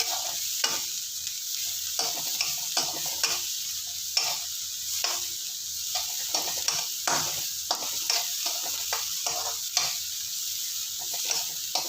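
Onions sizzle steadily in a pan with table salt, a close continuous frying hiss broken by regular scraping stirs of a spoon.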